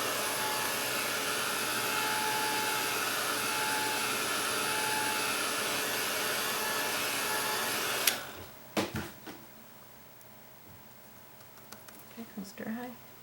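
Heat tool drying acrylic paint on painted leaves, a steady loud blowing whir held for about eight seconds, then cut off, leaving faint taps and handling sounds.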